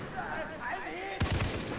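Gunfire in the co-op shooter Far Cry 3, a sudden burst of a few sharp loud shots near the end after a stretch of game ambience and a voice talking.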